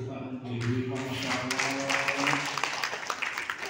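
An audience applauds for ibu Ima at a religious gathering, a steady wash of clapping that swells after the first half-second and continues under a faint tone and some murmuring voices.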